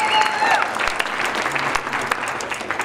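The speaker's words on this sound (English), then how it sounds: "How about a big round of applause?" Audience applause at a New Mexico State pep rally in Albuquerque, a dense, steady wash of clapping from a large crowd that fills the whole stretch, with a faint voice briefly at the start.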